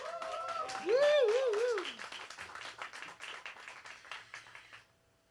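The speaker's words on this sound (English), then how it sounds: "A round of applause." A crowd applauds warmly at a live album release show while a sustained instrumental solo note bends and wavers over it, and the clapping fades out toward the end.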